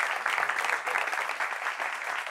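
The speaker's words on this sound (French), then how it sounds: "Applaudissements pour elle." A studio audience claps steadily, welcoming a guest onto a talk show set, dense and sustained applause with no pause and no voices over it.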